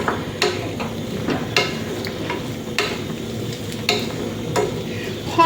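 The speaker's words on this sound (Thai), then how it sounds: "พยายามคนนะคะ คนมะเขือให้โดนความร้อนค่ะ" A spoon stirring eggplant in a cooking pot of pork rib curry with roasted rice, giving repeated scraping clinks about once a second over a steady low simmering sizzle.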